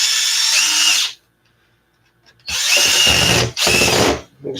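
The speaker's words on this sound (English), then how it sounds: "drill some holes in the bottom of your front bumper" A power drill bores holes into the bottom of an Arrma Notorious RC car's front bumper, loud whining bursts with a short pause between the first run and two closer bursts.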